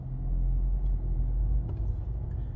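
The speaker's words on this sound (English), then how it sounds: "if I go on ahead and put the vehicle in drive, and I accelerate up a bit" A 2022 Kia Seltos pulls away after being shifted into drive, its engine giving a steady low rumble that holds close and loud for a couple of seconds with a slight rise in effort.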